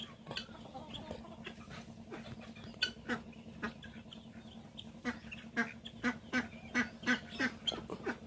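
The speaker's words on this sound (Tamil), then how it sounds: "இந்த வாத்து கின்னிக்கோழி சாப்பிட்ற வர வந்து பக்கத்தில் நாட்டுக்கோழிகளை விடவே மாட்டாங்க" Ducks and guinea fowl quack and cluck while feeding in a busy farmyard, with a run of steady, rhythmic calls near the end over a constant low hum.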